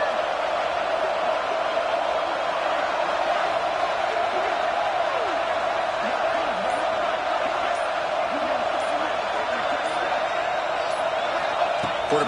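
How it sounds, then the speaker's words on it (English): Stadium crowd roar from a college football video game, a steady loud wash of massed voices running unbroken through the whole stretch with faint whistles and shouts riding on top. "and here comes the crowd noise."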